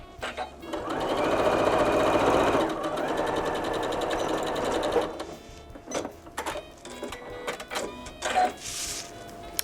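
A sewing machine stitches fabric pieces for a mug project, running in a steady fast whir for a few seconds, then stopping and starting in short bursts, close and clear.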